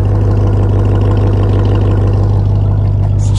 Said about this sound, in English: because this exhaust is menacing